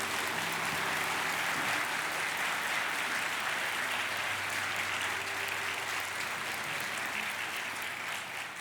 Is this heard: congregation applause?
yes